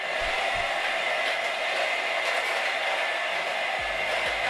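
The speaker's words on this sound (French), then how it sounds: "Vous fouettez, vous fouettez, vous fouettez!" Cream is whisked in a kitchen, giving a steady loud whirring rush that holds evenly for several seconds without pause, with no speech over it.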